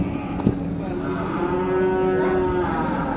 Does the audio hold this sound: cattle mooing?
yes